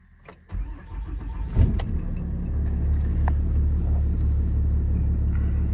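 The Cummins diesel engine of a 2015 Ram 5500 service truck cranks briefly and catches, then settles into a steady, loud low rumbling idle close by.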